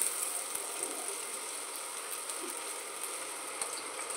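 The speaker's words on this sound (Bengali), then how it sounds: "আমি এখানে কোপ্তাগুলো ভেজে নিচ্ছি।" Cabbage koptas fry in hot oil in a pan, a steady bright sizzle with no breaks, heard up close and alone.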